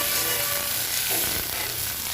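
Ginger paste sizzles in oil in a frying pan for a Bengali jackfruit and prawn curry, a close, continuous crackling hiss with faint stirring scrapes, and no talking over it.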